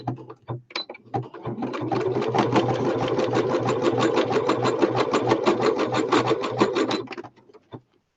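A sewing machine runs a zigzag stitch on fabric for a machine cover, a steady rapid mechanical chatter lasting several seconds after a few short starting taps, then stopping, close and fairly loud with no talk.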